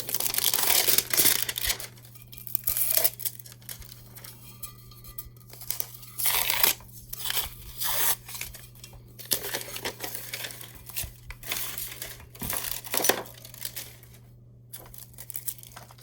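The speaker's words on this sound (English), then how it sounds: "So I like to use that little tape pull tab." Packing tape pulled and peeled with a small pull tab while wrapping a 4-in-1 Bluetooth can cooler for sublimation, heard as repeated close crinkling and tearing rasps in bursts, alone over a steady low hum.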